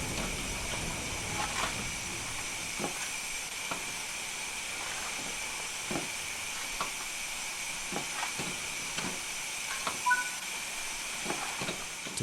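A steam locomotive in Train Sim World 5 hisses steadily, a constant airy wash with regular soft clanks and puffs spaced through it, moderately close.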